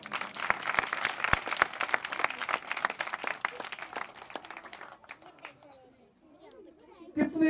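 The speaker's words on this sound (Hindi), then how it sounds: "भाई के लिए जरूर ताली लगाएं।" Church congregation applauding at a healing service, dense clapping for about five seconds that thins out, with a voice and a short burst of noise near the end.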